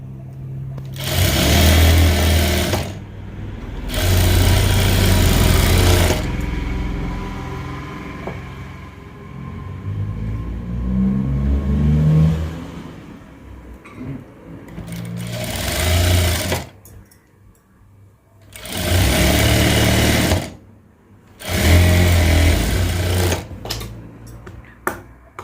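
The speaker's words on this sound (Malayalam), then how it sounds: "സ്ലീവിൻ്റെ കൈയുടെ ഭാഗം ഒന്ന് മടക്കി അടിച്ചു കൊടുക്കാവേ" A sewing machine stitches a folded sleeve edge in repeated loud bursts of steady whirring, separated by pauses with quieter handling sounds and some voice.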